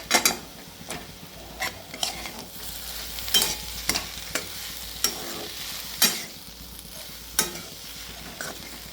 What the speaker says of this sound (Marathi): त्यात आता आपण थोडीशी कोथिंबीर टाकूयात आणि पुन्हा एकदा मिक्स करून घेऊयात.